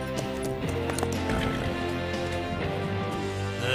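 Horse hooves clip-clop steadily in a French Lucky Luke cartoon, a brisk rhythmic trot layered over busy background music.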